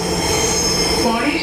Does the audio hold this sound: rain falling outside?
no